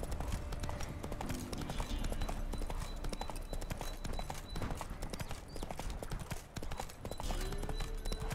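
A horse gallops in The Witcher 3: Wild Hunt, a steady rapid clip-clop of hooves that carries on without pause, with faint game ambience behind it.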